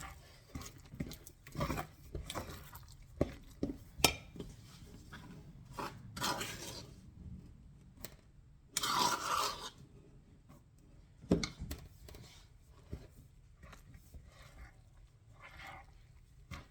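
Ingredients for durum sunflower bread with soy being stirred in a bowl, giving a run of soft, uneven scraping and knocking strokes with brief pauses, close and fairly quiet.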